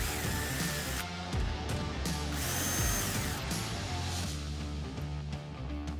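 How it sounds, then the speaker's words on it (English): A power drill bores pilot holes for a door lock face plate. The motor runs at a steady high whine for several seconds with brief pitch changes as the bit bites, loud and close, with no talking. "Pilot drill my holes."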